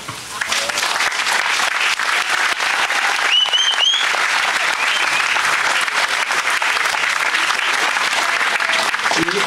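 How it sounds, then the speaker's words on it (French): Sustained applause from a crowd at an awards presentation in Terrasson honouring a glass section, loud and continuous throughout, with brief whistles or cheers and murmured voices mixed in. "on peut l'applaudir"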